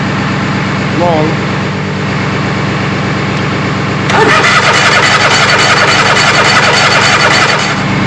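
Zero-turn lawnmower engine cranking and then starting, running roughly with a loud, steady mid-pitched drone for the last four seconds; a voice is heard briefly early on.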